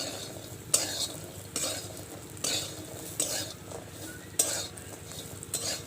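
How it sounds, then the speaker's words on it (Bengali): Peanuts roasting in a pan over a wood fire, stirred in regular strokes. Each scrape produces a rattling, scratchy sweep, about every 0.8 seconds, close and fairly loud over a dry background hiss. "এই যে দেখো এখন আমি বাদামগুলো ভাজছি"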